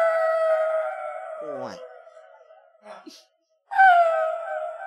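A preacher imitating a dog's howl with his voice: long, wavering, wailing tones that fade, break off for a short exclamation, then rise again loud and close.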